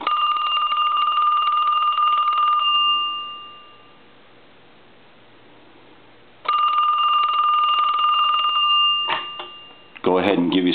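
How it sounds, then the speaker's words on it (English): A Princess telephone's bell rings in two long bursts separated by a pause, loud and close, with a brief voice at the very end. "I'll let it ring a couple times."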